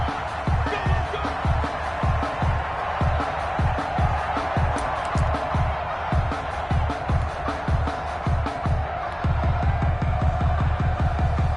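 A stadium crowd in an NFL video game on PS4, the Los Angeles Rams versus the Carolina Panthers, roaring with loud rhythmic claps and stomps pulsing steadily throughout.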